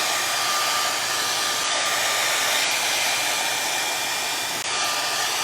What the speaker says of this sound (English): I'm going to hit this with the blow dryer for like 10 seconds